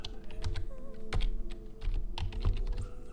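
Typing on a computer keyboard while entering a search term in Blender software, with several quick bursts of close, clicky keystrokes in an uneven rhythm over a faint background hum.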